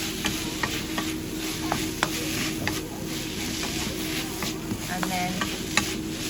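Vegetable stir fry sizzling in a pan, a loud continuous hiss broken by regular sharp taps and scrapes of a utensil tossing the food, with a brief spoken phrase.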